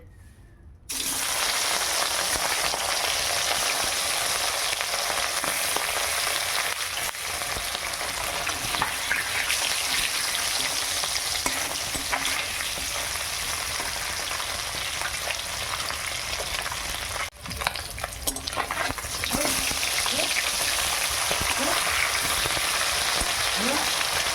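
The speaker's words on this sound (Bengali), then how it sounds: "তেল গরম হয়ে গেছে, এবার আমি মাছগুলো দিয়ে দিই।" Fish frying in hot oil in a wok gives a loud, continuous sizzle that starts after a quiet first second and holds steady with only a brief dip midway, with no voices.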